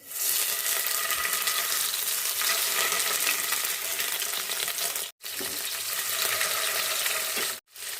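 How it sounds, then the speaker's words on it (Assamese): Striped spiny eel pieces fry in hot oil in a wok with a dense, even crackling sizzle. It runs loud and close, cut by two short silent gaps. "এতিয়া মই মাছ কেইপিচ দি দিছোঁ কেৰাহীত।"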